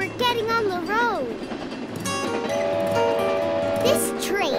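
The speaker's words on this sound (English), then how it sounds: "This train is taking forever." Cartoon train riding along the rails, a steady rolling clatter under cheerful children's voices and musical sounds that rise and fall throughout.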